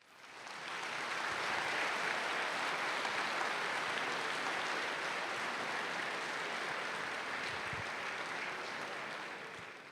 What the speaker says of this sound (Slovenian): Nagradimo jih z velikim aplavzom.